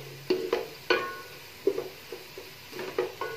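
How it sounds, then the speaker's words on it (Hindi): Golden onions frying in oil for kofta biryani give a quiet sizzle under a run of close spoon scrapes and clinks against the pot, spaced at irregular intervals. "अब मैं 1 से 2 मिनट के लिए मज़ीद इसको ऑयल में फ्राई करूंगी"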